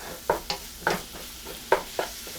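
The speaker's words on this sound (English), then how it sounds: "I want to cook this until this meat is thoroughly cooked" Ground beef fries for beef burritos while a utensil breaks it up in the pan, a soft sizzle under six or so distinct scraping taps spaced unevenly, close and fairly quiet.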